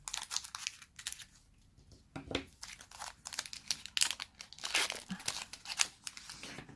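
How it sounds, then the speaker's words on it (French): A Pokémon card booster pack torn open, with repeated close crinkling and crisp tearing bursts of foil wrapper in an irregular rhythm, quiet and alone. "Et on va ouvrir le dernier paquet."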